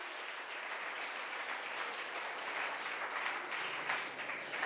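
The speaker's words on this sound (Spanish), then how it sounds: "Dame un aplauso fuerte al Señor." Church congregation applauding the Lord in a sustained, dense wash of clapping, fairly distant and even in level, with no speech over it.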